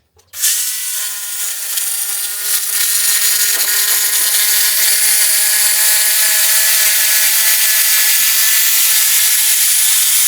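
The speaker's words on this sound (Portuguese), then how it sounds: "Eu vou fazer agora a furação para as tweeters." A power drill bores tweeter holes in a car speaker box, spinning up sharply and then holding a loud, steady whine with cutting noise throughout, close by and without talk.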